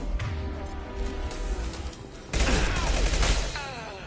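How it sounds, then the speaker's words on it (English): A Mass Effect 2 impact shot bursts out after a stretch of scattered combat fire, followed by a sharp, loud crackling blast and a fading whine. "Firing an impact shot."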